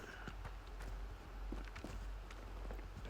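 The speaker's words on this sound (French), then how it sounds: "Petit bruit de pas dans l'eau." Soft footsteps splash through shallow water in the video game Standoff 2, a quick run of muffled, uneven steps at moderate distance over a low rumbling background.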